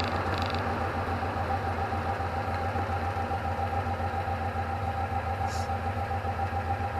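A VW Beetle with a 74mm-stroke 2054cc stroker engine drones steadily from inside the moving car, a continuous mid-to-low hum that neither rises nor falls.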